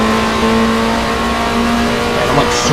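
A touring car engine in the Race 07 WTCC PC racing game holds a steady, loud, sustained drone while cornering at moderate speed, with a brief tyre squeal near the end and a voice talking over it.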